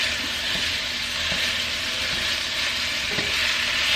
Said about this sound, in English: now that this has started frying, I'm going to just take my spatula and break it up a little bit.